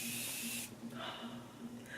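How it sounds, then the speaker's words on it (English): An aerosol makeup setting spray lets out a short burst of fine mist, a bright hiss that stops abruptly. Quieter handling sounds follow. "the aerosol just really helps you get that perfect fine mist"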